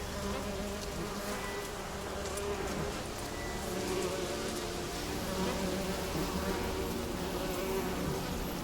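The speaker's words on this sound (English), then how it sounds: "Or is that actually a swarm of bees?" A swarm of bees drones continuously in the Witcher 3 video game, a thick buzzing hum that stays steady and fairly close throughout, with no talk over it.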